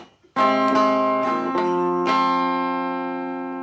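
Guitar strums the second half of a groove: a few quick, close strummed chords, then a final chord left ringing and slowly decaying.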